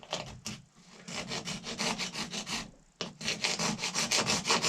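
A rasp files a cow horn propped on a vise in quick, even back-and-forth strokes, close and dry, with a brief break partway through.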